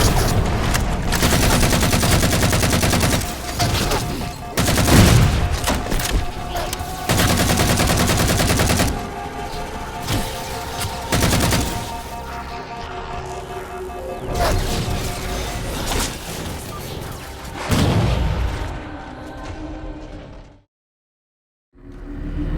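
Loud, rapid bursts of gunfire and crashing explosions from the final battle in Halo 4 repeat almost nonstop, then cut to a brief silence near the end.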